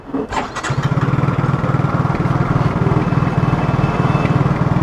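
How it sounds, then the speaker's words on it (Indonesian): A Yamaha motorcycle engine with a sensor fault cranks briefly, catches and settles into a steady, slightly uneven, stuttering idle, close by. "Saya hidupkan, kita dengarkan bunyi dari sepeda ini ya."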